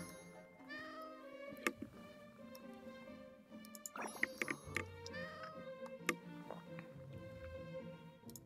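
A cat meows inside the Genshin Impact video game. Several drawn-out meows come one after another over faint ticking and soft background game sounds, with no talking.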